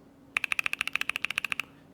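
Rapid run of crisp mechanical key clacks from Gazzew U4T Black switches, about fifteen evenly spaced presses, close and fairly loud with nothing else present.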